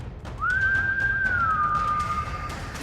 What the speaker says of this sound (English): and I whistle